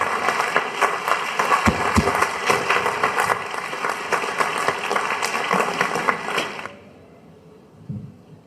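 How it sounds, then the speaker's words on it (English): Audience at a school graduation and prize-giving ceremony breaks into sustained, dense applause lasting several seconds, then stops abruptly, leaving a quiet room with a brief faint sound. "A round of applause for Olisamene Xavier Uduje."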